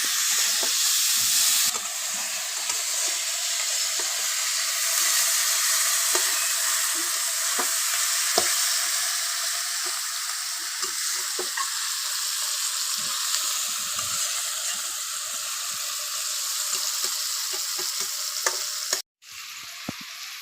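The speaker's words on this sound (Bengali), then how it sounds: "তো আর কিছুক্ষণ ভাজবো মশলাটা তো ভেজে নিয়ে আমরা চিকেনটা দিয়ে দেবো" Spice paste fries in oil for a homemade chicken curry, a loud, steady, close sizzle and hiss running unbroken with light stirring clicks, briefly cutting out near the end.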